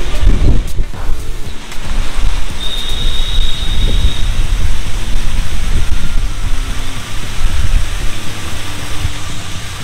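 Waghoba Khind waterfall, running with reduced water, makes a continuous broadband rush of falling water mixed with gusty wind buffeting the microphone, loud and steady throughout with no voices.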